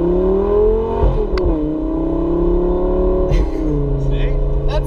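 A Lamborghini's engine rises and falls in revs while driving, a strong near whine and rumble, with people talking over it.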